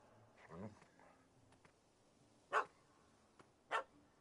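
A dog barks twice in The Witcher video game, two short sharp bursts a second apart standing out over quiet game ambience after faint earlier murmuring.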